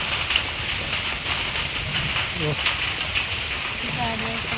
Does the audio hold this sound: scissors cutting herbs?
no